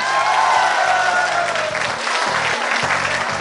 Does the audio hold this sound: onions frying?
no